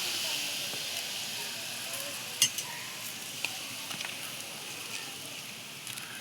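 Water sprinkled onto burning wood in a cooking fire sets off a soft, steady sizzle and hiss, with a few sharp crackles and pops scattered throughout, heard fairly close.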